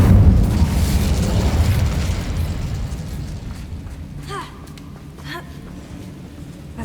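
The Incendio fire spell in the Hogwarts Legacy video game bursts with a loud whooshing blast that fades into a softer crackling rumble, with a brief voice afterward.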